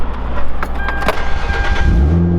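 Keys jangle and clatter inside a car, then the engine cranks and catches, settling into a low steady idle near the end.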